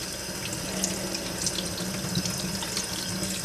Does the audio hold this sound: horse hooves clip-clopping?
no